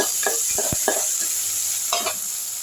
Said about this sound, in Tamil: இதுவும் சேர்ந்து நல்லா வதங்கட்டும்